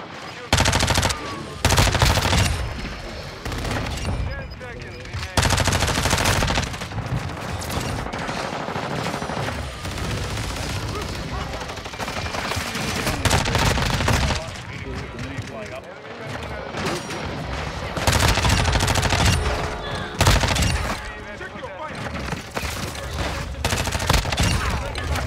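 Video game gunfire with an MP5 and other weapons: dense bursts of rapid automatic fire and scattered shots, loud and near, broken by short pauses, with players talking over the shooting.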